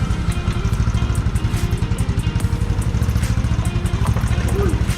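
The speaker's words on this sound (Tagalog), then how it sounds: "Tapos iba yung tunog ng tambucho ko eh." A bored-up Yamaha Aerox motorcycle idles close by, its exhaust thumping in a fast, steady, lumpy rhythm throughout.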